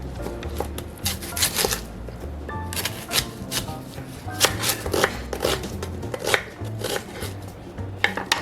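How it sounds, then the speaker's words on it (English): Knife chopping onion and garlic on a board for a quick plant-based puttanesca sauce, a steady run of close, crisp cutting taps with short pauses, no talking. "First thing we're going to do is chop a third cup of onion, and we're going to do about 4 cloves of garlic"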